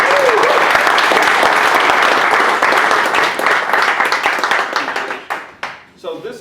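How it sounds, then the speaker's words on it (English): A church men's ministry gathering breaks into loud, dense applause from the audience, sustained at first and then tapering into scattered individual claps before dying away. "Let's just go ahead and start off with the round of applause."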